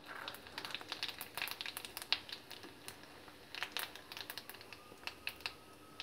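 Cumin seeds dropped into hot oil in a kadhai crackle and pop rapidly, a quiet but busy stream of sharp little snaps over a faint sizzle, close and without talk.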